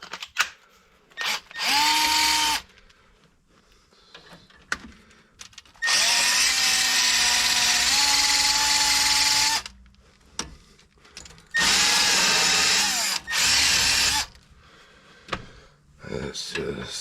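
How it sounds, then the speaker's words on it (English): A wire wheel on a battery power drill scrubs the threads of a Honda CR-V strut in three loud whining bursts, the motor pitch dipping under load, with pauses and someone talking in between. "you probably want to use like a wire wheel or something on there. Clean up the threads"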